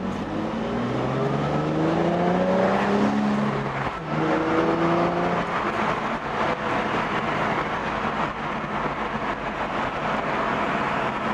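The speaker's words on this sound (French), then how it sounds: "les V6 atmosphériques, c'est un truc de dingue quand même" A Nissan 350Z's naturally aspirated V6 engine, about 300 horsepower, roars loudly and continuously, revving and shifting pitch as it pulls hard, heard steadily throughout without speech.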